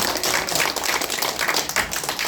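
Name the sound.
audience applause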